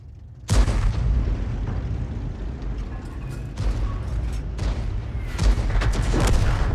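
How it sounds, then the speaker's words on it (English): GW Panther self-propelled artillery firing in a tank combat video game: a sudden heavy boom followed by a sustained low rumble and rolling echo, with further dull thuds and reverberation, loud and close with no talk. "Angelina decided to fire it anyway."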